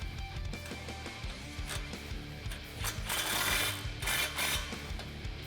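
A ratchet tightens an exhaust pipe clamp on a Corsa Xtreme cat-back exhaust for a 2011-2014 Challenger 5.7L, producing quick bursts of clicking pawl strokes with short pauses between, fairly quiet and close.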